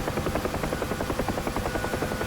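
Helicopter rotor thudding in a flight simulator game, a steady, fast rhythmic chop with a continuous engine whine, close and even throughout.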